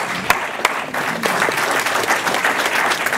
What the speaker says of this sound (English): One more round of applause, please, for those presentations.